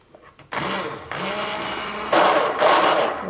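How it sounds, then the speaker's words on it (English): A hand blender whirs on abruptly and runs loudly and steadily for a few seconds, its motor pitch shifting as it churns through dal soup. "Now I will just blend it using hand blender."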